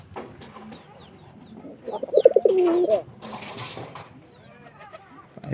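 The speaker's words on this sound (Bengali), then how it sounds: "পায়রাটা দেখতেছেন অবশ্যই" A domestic pigeon, kept for pairing, coos in a short throaty burst in the middle, close by against a quiet background with faint rustling before and after.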